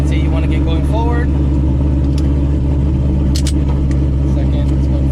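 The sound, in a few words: Shelby GT500 car driving forward in first gear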